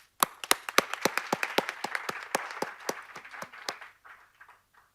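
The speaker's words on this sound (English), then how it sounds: "So please give a huge round of applause." A small audience at an arangetram dance recital claps in distinct, sharp, close hand claps that come thick at first, then thin out and fade near the end, with no talk.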